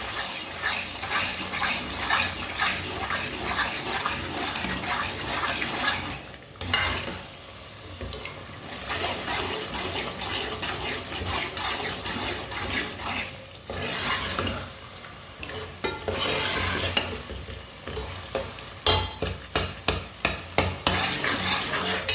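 Turnip curry seasoned with garam masala is stirred in a frying pan, a steady sizzle under repeated scraping of the spoon, with brief pauses and a flurry of quick stirring strokes at the end.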